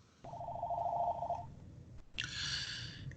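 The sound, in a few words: telephone ringing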